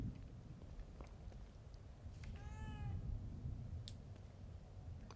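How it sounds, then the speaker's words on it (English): A single drawn-out cat meow sounds midway in The Evil Within 2, faint over low rumbling game ambience with scattered clicks. "I don't ever remember owning a cat."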